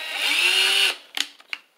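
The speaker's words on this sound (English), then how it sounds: "put a drill on there." Power drill spinning a hand-crank telephone magneto with its handle removed: a loud, close whine holds steady for almost a second, then cuts off and leaves a few short clicks and rattles.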